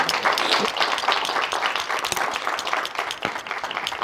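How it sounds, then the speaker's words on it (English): Audience applause at an evening literary event at the Carver Museum, a dense, steady wash of many hands clapping that holds strong for about four seconds with a few sharper individual claps poking through. "Round of applause, Dr. Booker."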